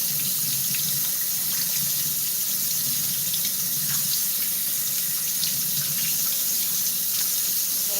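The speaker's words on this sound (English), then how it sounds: "I'm waiting for the hot water to start running." Hot water runs steadily from a kitchen tap into a sink, a close, constant hiss and splash with no talking.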